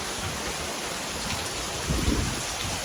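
Heavy rain pours steadily on an outdoor building site near a boat, with low rumbles of thunder swelling briefly toward the end; no voices.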